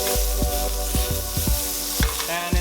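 Butter heating in a pan for a teriyaki chili sauce to go with garlic mushrooms, a close steady sizzle alongside a series of recurring soft knocks.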